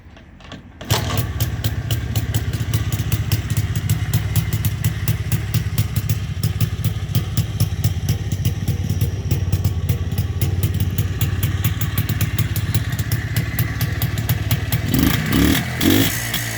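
Close by, a fully restored MZ TS 125 two-stroke motorcycle with CDI ignition starts and keeps running at a steady, rattling idle, its engine note briefly rising near the end.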